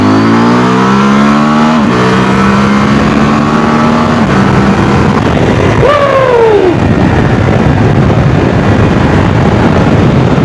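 A CFMOTO 1000MT-X parallel-twin motorcycle revs up through several gears, its engine pitch rising and dropping at each shift before a final hard pull, loud and close over heavy wind rush, with no talking.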